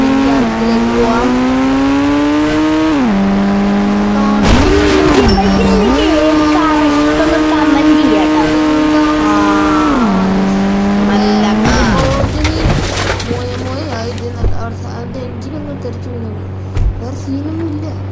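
Lamborghini in the mobile game Indian Bike Driving, its engine revving through rising and falling gear shifts for about twelve seconds, loud and close, before settling into a steady low idle hum with a few clicks.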